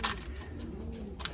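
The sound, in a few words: pigeon cooing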